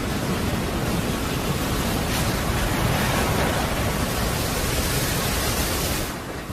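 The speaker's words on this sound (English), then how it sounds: "When she breaks, you have the sound of it, you know how it goes on the reef, how it breaks, boom, boom, boom" Ocean waves breaking over a shallow, razor-sharp reef, a loud, dense, unbroken roar of surf that holds steady and then eases slightly at the very end.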